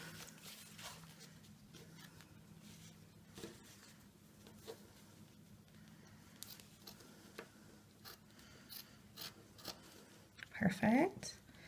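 Scissors snip through a thin ribbon at an angle, a brief crisp cut near the end after a stretch of quiet rustling and soft handling sounds.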